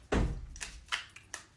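A door closes indoors with one loud, close, heavy thump, followed by a few fainter knocks and clicks as it settles.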